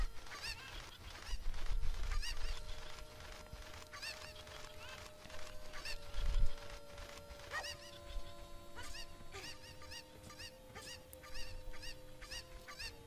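Cuccos, the chickens of the video game Zelda Ocarina of Time, cluck and squawk in a rapid, overlapping stream of sharp calls over steady game music tones.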